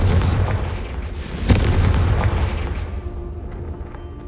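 A Confringo spell blast from the video game Hogwarts Legacy erupts as a loud, booming burst with a sharp crack at its peak, riding on dense rumbling game ambience that slowly fades.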